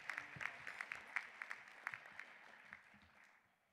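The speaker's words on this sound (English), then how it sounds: "If we can please give one more round of applause to Warren." Audience at a unity luncheon claps for a speaker named Warren, a moderately dense patter of individual hand claps that gradually thins and fades toward the end.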